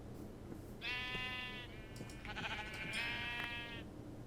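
Sheep in Minecraft (GregTech: New Horizons modpack) let out two or three nasal, wavering bleats in quick succession, fairly close and clear against a quiet background.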